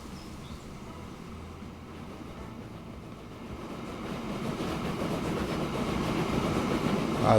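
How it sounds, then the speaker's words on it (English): Long trains in the railway game Transport Fever 2 rumble steadily with a faint rhythmic clatter, a low continuous roll that swells gradually louder toward the end, with no talking. "Look at those long trains"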